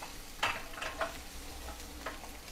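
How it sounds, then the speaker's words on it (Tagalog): Chickpeas are stirred in a pan as they cook, with a soft sizzle beneath several sharp scraping strokes of a utensil at uneven intervals, heard close and without talk. "Ang lutoon ko subong kay chickpeas."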